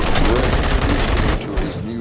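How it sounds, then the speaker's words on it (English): Gunfire in the video game RoboCop: Rogue City, a loud dense burst of rapid shots filling the first second and a half, then fading into softer echoing shots with a faint voice beneath. "Gunshots?"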